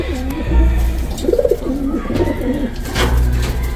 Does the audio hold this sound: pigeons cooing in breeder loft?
yes